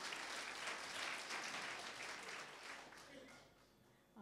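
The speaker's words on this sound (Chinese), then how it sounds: "掌声鼓励哈。" A church congregation at a night prayer revival meeting claps in sustained, dense applause that fades toward the end, with a voice starting to speak as it dies down.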